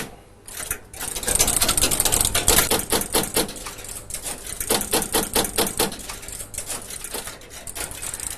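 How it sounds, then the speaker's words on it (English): A WITCH computer loads its program from punched paper tape, giving a loud, rapid mechanical clatter of the tape reader in bursts and steady runs, with short pauses between. "the machine is now loading its program into the memory stores"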